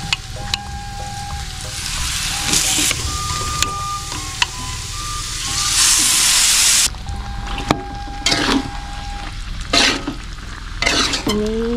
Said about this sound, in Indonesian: Selanjutnya kita tambahkan ini iwung yang udah direbus. Iwungnya langsung ke sini.